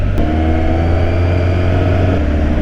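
A Kawasaki ZX-10R motorcycle creeps slowly through town with its fuel light blinking, the engine holding a steady low, loud hum at a constant idle-like pace with no rises in revs.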